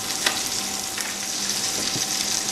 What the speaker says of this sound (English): Nice flaming butter all over it.